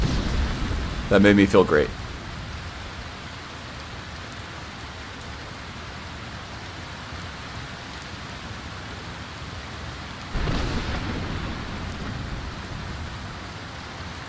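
Steady rain and a thunderstorm in Skyrim, with a constant hiss of falling rain and a swell of rumble partway through, and a voice talking briefly early on.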